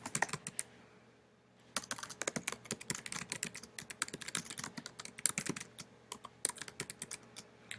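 Fingers typing text on a computer keyboard, a quiet pause then bursts of rapid, uneven key clicks and taps, close and crisp, with no talking.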